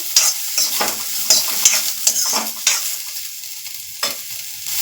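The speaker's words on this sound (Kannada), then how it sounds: "ಒಂದು ಈರುಳ್ಳಿ ಒಂದು ಟೊಮೆಟೊ ಹಾಕ್ಕೊಂಡಿನಿ ಇದನ್ನು ಸ್ವಲ್ಪ ಕೆಂಪಾಗೋವರೆಗೂ ಹುಡ್ಕೋಬೇಕು" Onion and tomato fry in a pan for sambar with a steady high hiss, and a spoon scrapes and stirs against the pan in repeated strokes. The sound is close and there is no talk.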